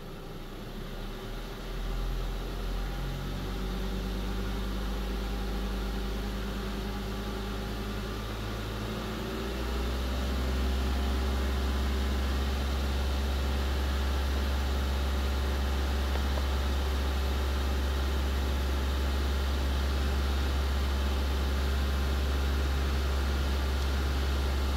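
A 2004 Nissan Sentra 1.8L engine with an open-loop fault runs at about 2000 RPM, a faint, steady low hum that deepens and grows a little louder partway through, with no talking.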